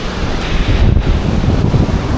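Strong habagat monsoon wind at Panan Bay during a typhoon, buffeting the microphone in loud continuous gusts with surf roaring underneath, no speech.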